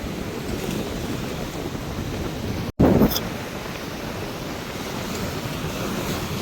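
Sea waves and strong wind on the shore at Jaffna during a storm, a loud continuous roar of surf and wind buffeting with a brief dropout.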